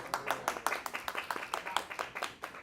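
A small group claps briskly and unevenly at close range, a short burst of scattered handclaps with no other voices.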